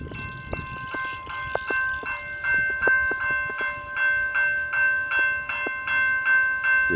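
A train in Australia rolls past along the track, nearby and growing louder, with a regular clatter of wheels over rail joints and a sustained tonal ring over the top.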